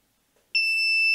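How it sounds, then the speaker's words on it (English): An active buzzer powered with 5 volts sounds one loud, steady, high-pitched beep that starts abruptly after a faint click and holds unbroken to the end. "I just apply 5 volts and I can hear a beep."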